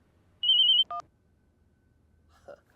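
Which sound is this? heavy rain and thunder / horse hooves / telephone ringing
telephone ringing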